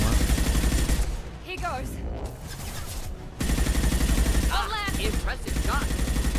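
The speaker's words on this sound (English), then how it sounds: "Always a gunfight going on somewhere." Continuous video game gunfight gunfire, dense and loud, runs through almost the whole stretch with only a short dip. A voice speaks briefly over it.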